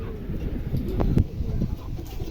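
Mundi pigeons coo softly at close range, giving low, throaty murmurs over a faint background hum, with no talking.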